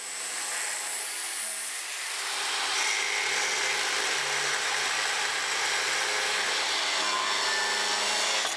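Cutting the feet of a forged steel tow bar, a harsh, high grinding hiss that runs steadily and fairly faintly, with the cut building after a quieter start.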